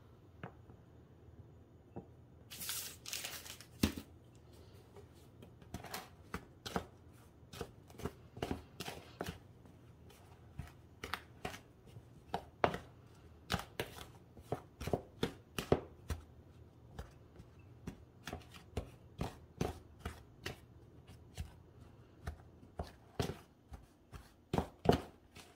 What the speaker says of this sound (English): we're gonna mix this in until this whole thing gets a little bit crumbly.